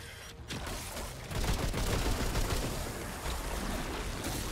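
Sustained rifle fire in Remnant 2 comes as a dense, loud rattle that swells after the first second and keeps going to the end, with no talk over it.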